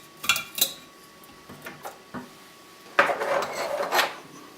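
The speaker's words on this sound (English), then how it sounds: "Put the sieve." Metal sieve set into a clamp-style essential oil distiller, a few light clinks and clatters followed by a longer scraping metallic rattle as it settles, close and fairly quiet.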